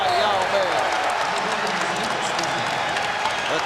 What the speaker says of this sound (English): The crowd responding to the play of Yao.